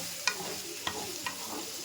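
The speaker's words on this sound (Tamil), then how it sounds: "கரண்டி வச்சு எடுத்து விட்டு ஃப்ரை பண்ணணும்." Potatoes fry in a pan with a soft, continuous sizzle, as a ladle scrapes and stirs them in three distinct strokes spaced across the short stretch, close and fairly quiet.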